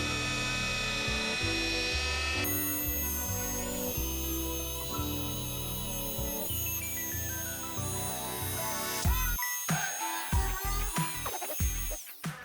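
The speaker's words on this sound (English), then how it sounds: "So we just finished working in Headlight Restorer with our TORQ Rotary polisher" A TORQ rotary polisher works headlight restorer into a car headlight, its motor humming steadily up close before winding down and stopping with a few clicks and handling noises.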